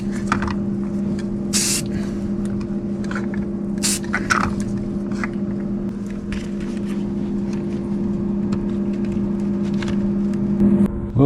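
Light bursts of spray paint hiss intermittently while a slot car body for a homemade Ford GT40 is coated, over a steady low mechanical hum.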